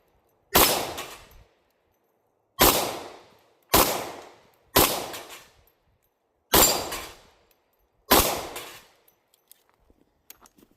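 A Kimber Rapide Scorpius 10mm pistol fired at bowling pins outdoors, six loud, sharp shots spaced irregularly with short echoing decays, followed by faint small clicks.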